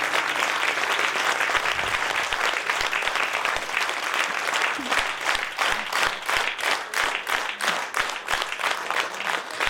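A concert audience applauds steadily at a romance-song evening, dense sustained clapping that turns into more rhythmic, synchronized claps toward the end, loud and close.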